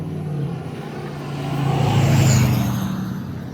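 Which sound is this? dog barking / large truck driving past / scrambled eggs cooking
large truck driving past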